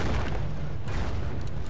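Low rumbling artillery boom from captured German 88 guns turned by British forces in Company of Heroes: Opposing Fronts, a World War II strategy game set during Market-Garden, a dense, muffled blast with distant gunfire crackle.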